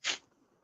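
A voice imitates a cocaine snort: one short, sharp nasal sniff, close and brief, fading quickly into near silence.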